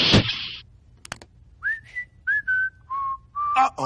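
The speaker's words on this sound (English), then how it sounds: "Uh-oh. Not the innocent whistling!" A person whistles a short, casual tune of several sliding notes after a brief noise burst, close and clear in a quiet room.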